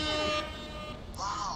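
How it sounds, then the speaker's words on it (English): An air horn sound effect blares during a Rocket League game stream, a loud sustained tonal blast that cuts off and is followed by a second shorter horn tone. "Is this when I air horn?"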